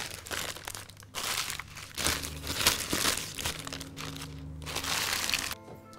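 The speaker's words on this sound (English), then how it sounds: "You can crumple them up and then that'll help them fold easier" Large sheets of greaseproof paper being crumpled by hand while making a Christmas pudding, a close, crackling rustle in several bursts over a faint low hum.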